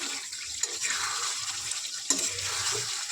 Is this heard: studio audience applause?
no